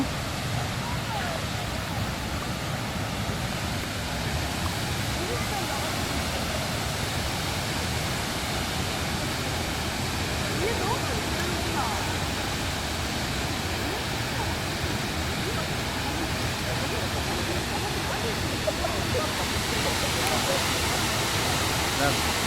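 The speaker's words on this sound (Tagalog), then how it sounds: "Napakaganda ng falls. Galing pa siya dyan sa pinakataas." A waterfall dropping from a high point during a summer trip roars as a constant, loud, broadband rush of falling water that fills the whole stretch.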